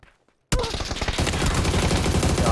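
Near silence breaks into a loud, sustained burst of rapid automatic gunfire in PUBG, continuing steadily to the end.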